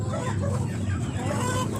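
Backyard gamefowl chickens cluck close by in a short, steady stretch of overlapping calls, with a constant low rumble running underneath.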